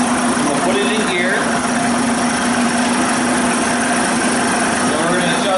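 An SV motorcycle engine idles in gear just after a carburetor service, turned down low on the idle circuit: a steady, loud, continuous hum with a faint whirring overtone and no break in level throughout.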